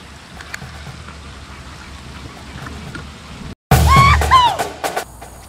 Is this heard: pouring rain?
yes